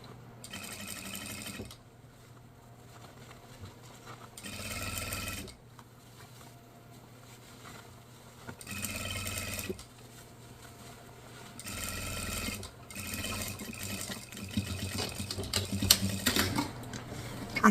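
A sewing machine backstitches on a fabric Easter basket in short, separate bursts of rapid stitching, with quiet pauses between each run.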